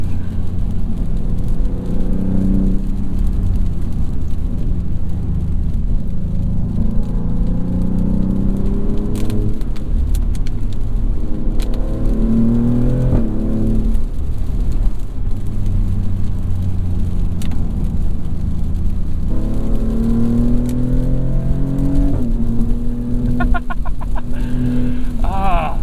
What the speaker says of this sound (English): a more exciting noise coming out of the back